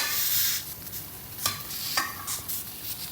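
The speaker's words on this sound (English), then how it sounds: "we can hear the cabbage sizzle away" Steady sizzling hiss of cabbage in a pan over a slow flame, fairly close, with a few soft scraping stirs breaking through; no voices.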